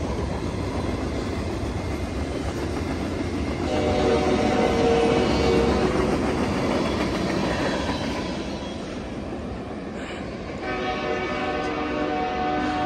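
A Union Pacific freight train rolls past the Oakland Coliseum station, a loud, steady rumble of wagons and wheels with a horn sounding partway through, close and continuous for the whole stretch.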